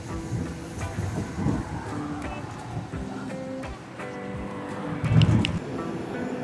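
The Bernina Express train rolls steeply downhill toward Brusio with a steady rumble, wheel clicks and squeals, and brief tonal whines, heard from close by under faint background murmur.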